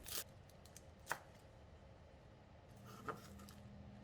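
Two sharp knife chops cut parsley into half-inch lengths on a board about two seconds apart, with a softer tap or two in between, against a quiet room hum.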